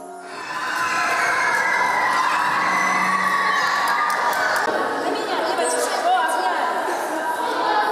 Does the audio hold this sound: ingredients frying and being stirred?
no